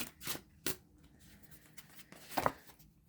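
Soft, quiet rustles and flicks of tarot cards being shuffled, a few sharper riffles among gentle shuffling sounds, close and faint.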